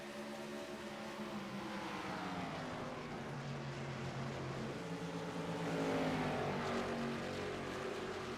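Race car number 11 at a USRLA event whips around the track, a steady engine drone with rising and falling pitch, heard from a distance and sustained throughout.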